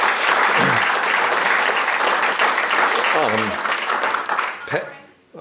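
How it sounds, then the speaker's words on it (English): Steady, dense applause from a luncheon audience, loud and continuous before tapering off at the end, with a few voices calling out over it. "So how about a round of applause for the best group of friends and family anybody could have."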